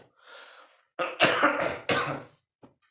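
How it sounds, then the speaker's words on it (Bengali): Several harsh, close coughs and a throat clearing come in quick bursts separated by short silences. "প্রচণ্ড পরিমাণে কাশি হচ্ছে"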